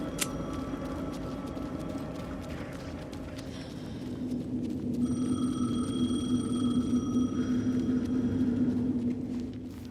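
A telephone rings in the video game Alan Wake 2, with a thin bright ring coming and going over a dense rumbling, shuffling game ambience, partly masked and moderately faint.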